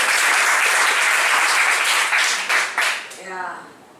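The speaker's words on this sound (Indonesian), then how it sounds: "Boleh minta tepuk tangannya?" An audience claps loudly and steadily at a talk, dense applause that tapers off in the final second as a voice begins speaking.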